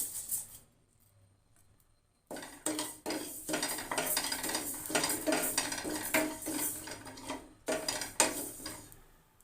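Rice dry-roasting in a pan, with a utensil scraping and stirring in steady, busy bursts of metallic clatter. The stirring starts after a quiet opening and carries on with brief pauses.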